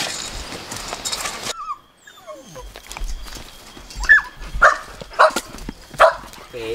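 Puppies whimper with high, thin whines and let out a few short yaps, close by, with a brief quiet pause partway through.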